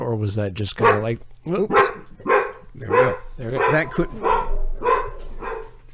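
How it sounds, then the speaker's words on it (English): Dog barking somewhere in the background, a few sharp barks breaking through at the start while someone talks steadily over it. "If you hear any dogs barking, then that's just the way things happen."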